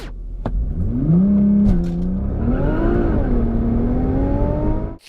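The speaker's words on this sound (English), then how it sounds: "You just put your foot on the brake, and with your right foot you just floor the throttle, and then let go of the brake." A Nissan GT-R roars through a launch-control start, its engine note climbing steadily in pitch as the car accelerates hard. The sound is loud, close and continuous, then cuts off abruptly, with no talking.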